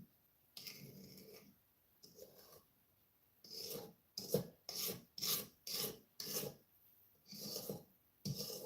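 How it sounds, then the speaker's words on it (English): A spatula scrapes around the sides of a bowl of buttery cupcake batter in a kitchen, giving a series of short, close rasping strokes, some in quick rhythmic succession, with quiet pauses between them. "I'll scrape down the sides"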